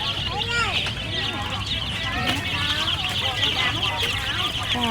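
Chickens at Khlong Thom market cluck and chirp in quick, scattered calls amid busy market noise, with people talking nearby.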